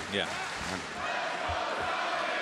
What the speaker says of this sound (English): You hear the great crowd here in Duluth, Georgia